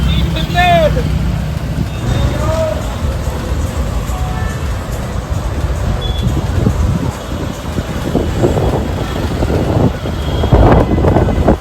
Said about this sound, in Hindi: ऊपर देखिए कितना भयंकर हवा चल रही है, सारे पेड़ आपको हल्का दिखाई देंगे।